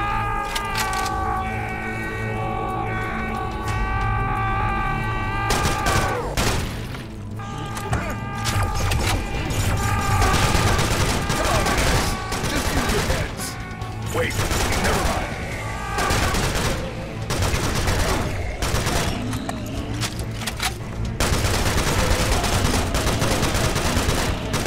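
Bursts of AK rifle fire in Serious Sam: Siberian Mayhem, repeated rapid volleys over a droning music bed, mixed with crashes, mechanical clanks and explosions.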